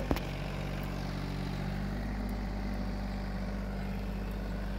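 A steady low engine drone runs throughout, with a deep constant hum and no talk, from a Swaraj Target 630 mini tractor running a rotary tiller under load nearby.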